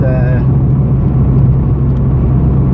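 Honda DC5 with a K-series engine running individual throttle bodies, giving a loud, steady close-up drone with a brief rising rev at the very start.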